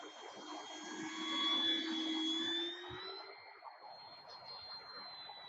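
An E-Flite P-51D Mustang RC airplane flies slowly with flaps engaged, its motor giving a steady, whining drone that swells louder, shifts upward in pitch, then eases back as the model passes.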